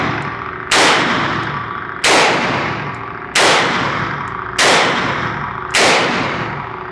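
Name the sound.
revolver gunshots, Colt Python fired at range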